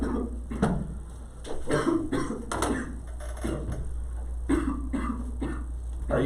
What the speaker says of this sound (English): Keep coughing, keep coughing.